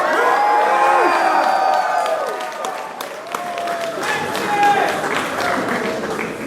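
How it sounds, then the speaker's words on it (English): Out-of-state students at a university convocation cheer, a big crowd of whoops, shouts and clapping that swells, dips briefly, then rises again across the hall. "I want the out-of-state students to give a big cheer"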